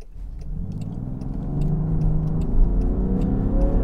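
A 2022 Land Rover Defender four-door drives along with a steady low engine drone and road rumble that swells slightly as it picks up speed, no voices present.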